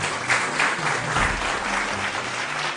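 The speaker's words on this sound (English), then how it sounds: "A round of applause for them." A quiz show audience gives a round of applause for the competing teams, a sustained, fairly loud wash of clapping that holds steady for a few seconds.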